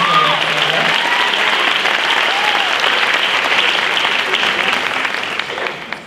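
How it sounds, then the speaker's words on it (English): Loud, dense applause from a graduation ceremony audience honoring leadership award recipients, sustained steadily for several seconds before tapering at the end, with faint voices mixed in. "give our John Payton Leadership Awards recipients a round of applause"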